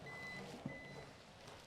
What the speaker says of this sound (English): that beeping you keep hearing, in my pocket I have my electrical tester and I just keep hitting the button